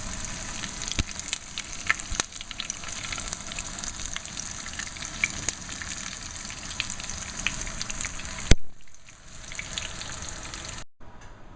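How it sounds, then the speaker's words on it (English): Veal schnitzel frying in a pan of hot oil, a steady close sizzle with faint crackles and a couple of sharp clicks, ending in a brief quieter stretch near the end. "Let that sizzle away, and we'll just keep on doing this until we have the whole batch done."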